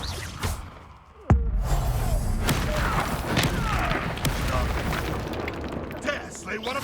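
A blasting spell detonates in a Hogwarts Legacy duel, a sharp loud boom followed by a sustained rumbling crash and debris, with shouted spell incantations and battle voices over the action.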